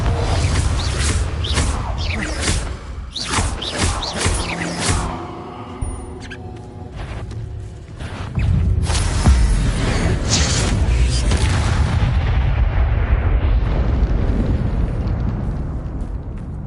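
A Confringo fire spell bursts in Hogwarts Legacy, giving loud booming explosions and crashes amid game effects, a lull in the middle, then a sustained roaring rumble that fades at the end.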